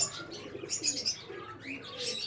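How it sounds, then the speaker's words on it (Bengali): Soft pigeon cooing mixed with chirps and a brief flutter of wings, close and moderately loud, with no talking. "তিন পেয়ার গোল্ডেন কবুতর আছে"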